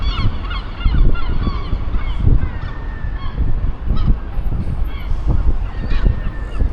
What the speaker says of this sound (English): it's definitely loud, especially with seagulls.